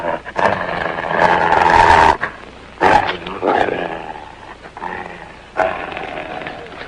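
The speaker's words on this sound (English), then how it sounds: "That's a dog." A dog in a 1948 western film growls and snarls in rough, rasping bursts, loud and close, with short pauses between the growls.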